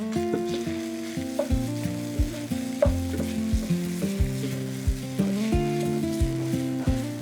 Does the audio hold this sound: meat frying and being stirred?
yes